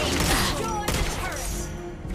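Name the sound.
gunshot in a video game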